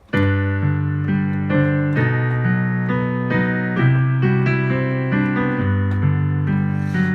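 A piano plays a steady chord progression, both hands, a low bass line under a higher melody, notes ringing clearly and evenly with no voices.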